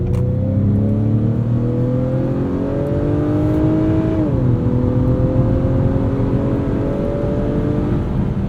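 A 2021 Acura TLX Advance SH-AWD accelerates in sport mode, its engine droning steadily and loudly as the pitch climbs, dips briefly at a shift, then keeps rising.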